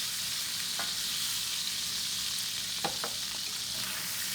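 Thin ribeye steaks searing in a hot pan, a steady broadband sizzle running throughout with a few brief clicks and utensil ticks near the end.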